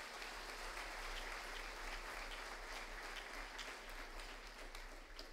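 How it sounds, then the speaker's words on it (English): Sustained applause from an audience at a high school honors banquet, a steady dense wash of clapping for students that holds for several seconds at moderate distance, with no talking over it. "let's give our students a round of applause"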